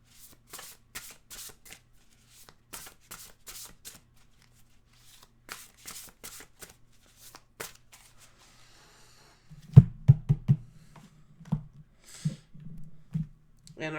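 A deck of tarot cards is shuffled in rapid riffling bursts, close and crisp, while someone talks quietly. Heavier taps and a card being set down follow near the end.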